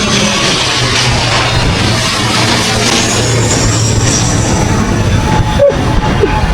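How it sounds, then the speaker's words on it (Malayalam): A metro train rumbles by overhead at an elevated line above a small roadside eatery, a steady loud broadband roar with a low hum lasting throughout, briefly peaking near the end. "മെട്രോ പോകുന്നുണ്ടോ?"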